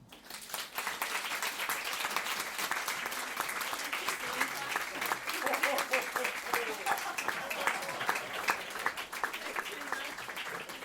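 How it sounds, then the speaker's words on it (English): Audience applause at a Vancouver Flame event: continuous, fairly distant clapping from a crowd, with individual sharp claps audible throughout and a murmur of voices beneath. "One more round of applause."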